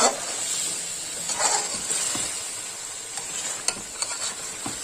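Chicken biryani masala sizzles in oil with a steady hiss while it is stirred and sautéed, with soft spoon scrapes and small crackling pops close up.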